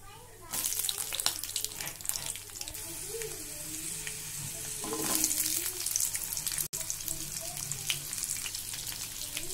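Cumin, fenugreek, red chilli and small onions fry in hot oil for a bottle gourd kara kulambu, making a loud, continuous hissing sizzle that swells midway, with occasional stirring scrapes up close.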